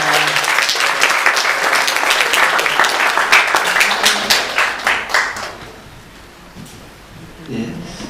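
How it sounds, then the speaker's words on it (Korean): A church congregation applauds during a Sunday worship service, a dense burst of clapping that fills the room for about five seconds, then fades to a quieter tail with a brief voice near the end. "다시 한번 박수하겠습니다."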